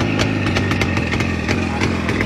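A Derbi motorcycle with automatic transmission, the first bike built in Spain with an automatic gearbox, revs close by with a buzzy, pulsing small-engine drone and rising throttle bursts as it rides off.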